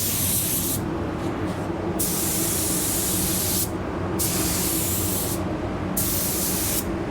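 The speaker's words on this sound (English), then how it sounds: "I'm still spraying this stuff fairly wet." Steady, close hiss of an Ultra 9K paint spray gun spraying paint fairly wet in winter, running continuously, broken by three short pauses where the trigger is released.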